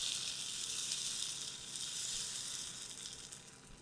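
Paneer and moong dal batter sizzles steadily on a hot griddle, a constant bright hiss that fades slightly toward the end.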